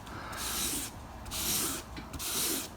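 Plastic motorcycle part being wet-sanded by hand with 600-grit sandpaper in one direction, three rhythmic rasping strokes, close and steady.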